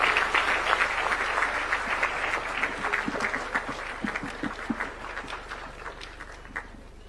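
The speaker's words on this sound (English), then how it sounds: "Please, a round of applause for His Excellency the President." Moderate applause from an audience at a formal government gathering greets the President, a steady patter of many hands that slowly thins and fades, heard from some distance.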